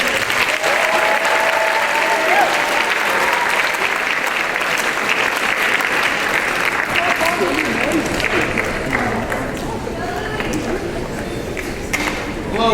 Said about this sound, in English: let's give another hand to welcome up leadership